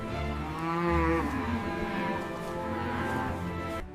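Cattle lowing in a holding line before transport, a couple of drawn-out, fairly close moos overlapping one another, ending abruptly.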